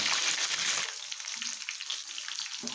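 Shrimp coated in egg batter frying in hot oil, a steady dense hiss and crackle throughout, loud and close, with light stirring or clinking layered over the sizzle.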